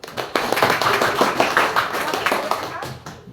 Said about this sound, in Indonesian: Kita kasih aplaus untuk Mas Kevin.